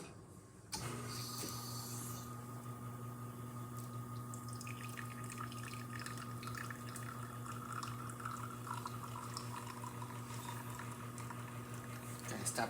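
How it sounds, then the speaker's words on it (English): A La Marzocco Linda Mini espresso machine starts up and hums steadily with a pump drone, hissing and gurgling as liquid trickles, continuous and close. "starting with one shot of espresso, we're gonna be testing out this espresso machine."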